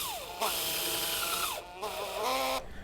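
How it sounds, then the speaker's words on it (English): Power screwdriver driving M8x40 self-tapping screws into patio posts, whirring in several bursts with rising and falling pitch as each screw bites, close and loud, with brief pauses between runs. "will mount the patio posts with M8x40 self-tapping screws using a 40 torque screwdriver"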